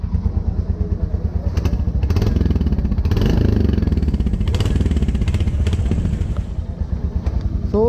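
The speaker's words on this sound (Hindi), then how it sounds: "रॉयल एनफील्ड थंप इसमें प्रॉपर है" Royal Enfield Hunter 350 motorcycle with its single-cylinder engine thumping steadily while riding, a close, continuous low pulsing beat with some mechanical clatter and no talk.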